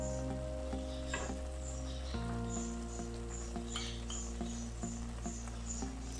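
Small fish cooking in a pan on a stove, a faint steady sizzle and light patter with occasional small ticks, no speech.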